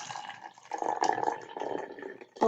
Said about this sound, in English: I'm going to have the bottle nice and flat, and I'm going to pour water in up until that line.